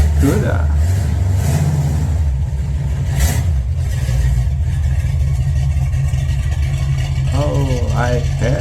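A big-engined vintage muscle car idles and revs with a deep, steady low rumble throughout, a voice talking over it early on.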